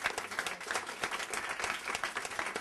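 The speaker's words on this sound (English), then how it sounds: "I think they deserve a round of applause." Audience at an advocacy gathering breaks into brief, fairly soft applause, a steady patter of many hands clapping together.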